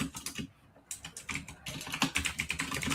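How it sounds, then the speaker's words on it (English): Someone types steadily on a computer keyboard, giving a close, continuous patter of key clicks with a brief lull partway through. "What are you typing?"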